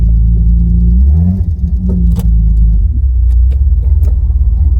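An approaching car, heard while waiting to meet an 80s Opel Monza 3.0 automatic coupe, gives a loud, close low rumble that swells and shifts as it nears, with a few brief higher clicks over the steady engine drone.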